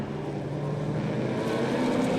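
A Triumph TR2 sports car races on a track, its engine a steady, moderately distant drone that swells slightly louder toward the end, with no voices over it.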